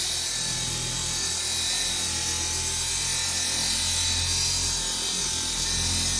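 A BATOCA S5 cordless car buffer polishing a car with back-and-forth, crisscross strokes, giving a steady, loud whirring hum with a faint rubbing texture throughout, no talking.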